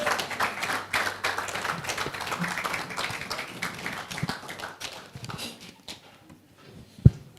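Scattered audience clapping at a Tobems Media showcase, uneven and fairly quiet, thinning out toward the end before one sharp, louder thump.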